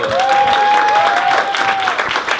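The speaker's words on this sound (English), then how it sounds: "Round of applause." Audience at a stand-up comedy show breaks into loud, sustained applause, dense steady clapping filling the room for the whole stretch, with a faint voice or cheer riding over it.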